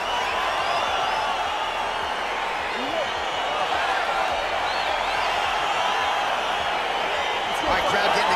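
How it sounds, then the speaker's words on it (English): A packed UFC arena crowd roars steadily as a fight gets underway, a dense continuous wash of cheering and shouting at constant loudness with a brief swell near the end. "crowd getting excited as this fight gets underway"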